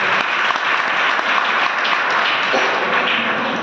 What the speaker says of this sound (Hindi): उनके लिए एक बार जबरदस्त ताली होनी चाहिए